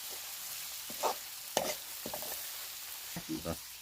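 Wild leafy greens (shindal makud) seasoned with salt are stirred now and then in a hot pan, giving a faint, soft sizzle broken by a few short scrapes and rustles of the leaves.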